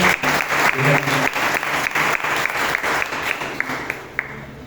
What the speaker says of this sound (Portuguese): Vamos receber o com palmas nessa noite